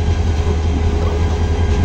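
Diesel locomotive No. 2904 rumbles steadily at close range as it couples onto the Parabat Express at Sylhet railway station, a continuous low, heavy drone with no distinct clank standing out.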